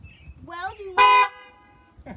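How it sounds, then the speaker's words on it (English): A Tesla car horn gives one short, loud honk partway through, with a person talking just before it. "that was my dad honking it"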